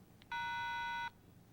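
A 1995 Motorola cellular phone gives a single clear electronic beep lasting under a second after a faint click, close and alone against quiet background hiss.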